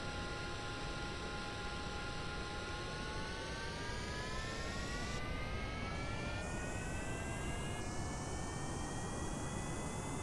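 A jet aircraft engine roars steadily on a runway in Kerbal Space Program, its rising whine climbing in pitch over about ten seconds, loud and continuous with no talking.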